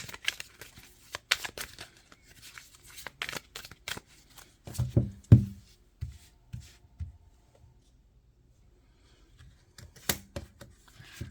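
Wheel of Fortune tarot cards being shuffled by hand, a run of crisp riffling and flicking bursts with a louder clustered shuffle midway, then quieter gaps and a final flurry, close and without speech.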